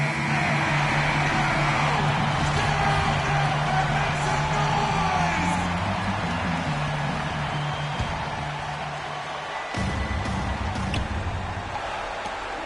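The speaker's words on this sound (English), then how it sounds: "Listen to this crowd. It sounds like a rock concert in here." A roaring crowd in a video game basketball arena near the end of the fourth quarter, a loud continuous wash of yelling and whooping that holds steady, then shifts briefly before carrying on.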